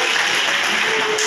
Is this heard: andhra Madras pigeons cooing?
no